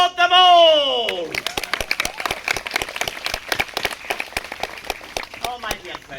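A voice calls out briefly before a crowd at a Colonial Williamsburg historical reenactment breaks into applause for soldiers, sailors and Marines, with distinct, crisp claps rattling close by and continuing for several seconds.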